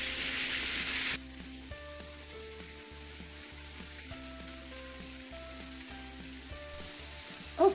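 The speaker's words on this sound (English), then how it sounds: "And I'm just going to saute them" Frozen tomatoes and zucchini sauté in a pan with a soft, even sizzle that runs throughout, with a brighter, louder hiss in the first second and a brief clatter at the very end, while quiet background music plays.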